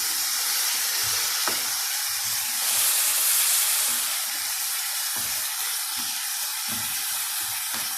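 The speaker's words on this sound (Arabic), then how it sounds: "نقلب اللحمه." Meat sizzles steadily in a hot pan while being flipped, a loud continuous hiss and crackle with brief stirring knocks, no talking.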